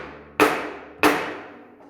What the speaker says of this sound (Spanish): con una masa o un martillo lo que vamos a hacer va a ser golpearla